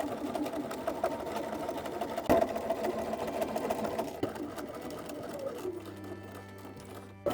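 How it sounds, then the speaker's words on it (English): A sewing machine runs steadily, stay stitching the raw edges and armholes of a garment piece, a continuous motor whir with fast needle clatter. It has one brief knock partway through and slows and winds down near the end. "stay stitch around the raw edges of the outside 3/8 of an inch and around the armholes 1/2 of an inch"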